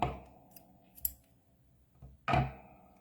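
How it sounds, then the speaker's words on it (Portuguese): Scissors snip through crochet yarn in a few quick, separate close cuts with short pauses between them, the final snip the loudest, in a quiet room with no talking. "Daí, eu corto o meu fio"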